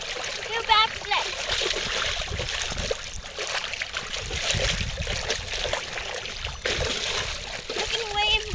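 Water splashes and sloshes close by in a pool, with a voice and other talk mixed in over the watery churn.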